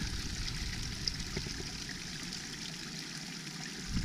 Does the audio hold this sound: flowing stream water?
yes